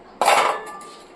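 Sugar spooned into a milk, powder and cream mixture for egg pudding, a single sharp spoon clink against the container followed by a short ringing decay, close and alone.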